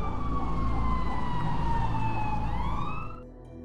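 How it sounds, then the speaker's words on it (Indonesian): A police car siren wails loudly and close in a steady sweeping tone over rumbling traffic, then fades out abruptly near the end. "suara sirine polisi terdengar"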